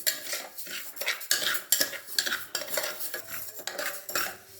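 Parboiled rice dry-roasting in a pan for a black-eyed pea and rice sundal, stirred with a spoon in steady repeated scrapes, a dry grainy rustle with metal clinks, close and continuous with no talk.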